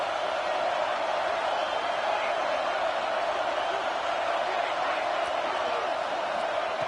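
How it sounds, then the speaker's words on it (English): Stadium crowd at a football game roaring in a steady, dense wash on a third-down play, continuous and fairly distant throughout with no distinct voices standing out. "the crowd really getting into it"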